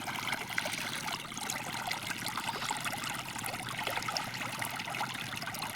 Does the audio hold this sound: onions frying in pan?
no